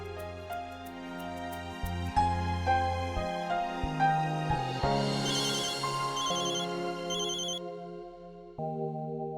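A melodic phone ringtone plays loudly, a bright electronic tune of repeating tones that runs several seconds, pauses briefly, then starts again.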